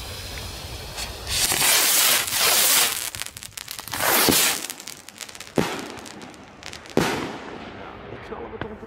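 Nearby consumer fireworks rockets in Belgium hiss and crackle in loud bursts, followed by several sharp bangs spaced a second or so apart.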